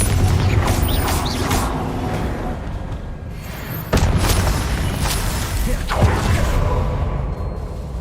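A Confringo blasting spell cast in the Hogwarts Legacy video game, heard as a booming burst with whooshing and mechanical creaks over dense, loud game noise.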